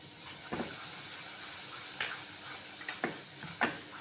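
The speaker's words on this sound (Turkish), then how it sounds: "İlk önce unumuzu kavuracağız." Flour toasts in two spoons of hot oil in a heated pot for barley vermicelli soup, giving a steady faint sizzle broken by a few soft scrapes of stirring. No voices are heard.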